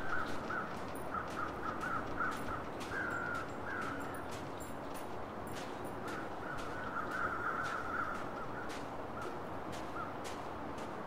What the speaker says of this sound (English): But I hear crows.